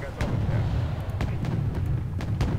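Several sharp cannon shots crack out at irregular intervals in the video game Wargame: Red Dragon, over a low, constant rumbling background, with a voice talking faintly underneath.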